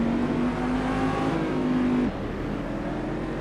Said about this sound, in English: we are able to go completely flat out in this car through the sort of final turn 11 and 12 complex